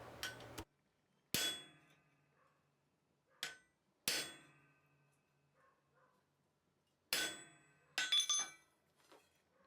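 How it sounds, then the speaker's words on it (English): Several sharp hammer blows ring out on a chisel set against hot steel at a blacksmith's anvil, arriving as irregular, widely spaced metallic strikes with a brief ringing decay, close and loud against a quiet background. "Here I'm just using the last bit of the heat to set up the chisel line that I'm going to be using."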